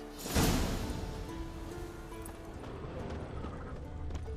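Horse hooves clip-clop in The Witcher 3 video game, a burst of close hoofbeats early on, then a steady game ambience with faint later steps.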